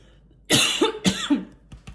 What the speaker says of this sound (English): I got a frog in my throat, like I had to cough